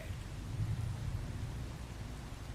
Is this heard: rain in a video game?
yes